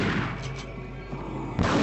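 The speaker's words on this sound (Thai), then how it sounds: "เดี๋ยวยิงเลยแล้วกันไม่ให้เสียเวลานะครับผมสองนัดหัวแตกไป" Gunfire from the mobile version of the video game Resident Evil 4 Separate Ways, a short burst of game shots with a heavy, booming low end, close and fairly loud, with no talking.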